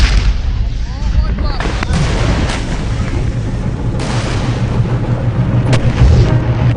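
A tank fires large shells at ISIS militants, giving heavy booming blasts over a dense, continuous rumble, loud and close, with a voice talking over it.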